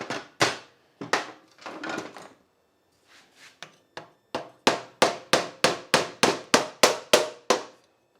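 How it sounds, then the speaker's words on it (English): A screwdriver pushed down the spark plug hole of a Honda engine on a Troy-Bilt machine taps the piston in sharp metallic knocks. A few irregular hits come first, then a steady run of about ten evenly spaced, loud, close strikes. "We are going to stick the screwdriver down the spark plug hole"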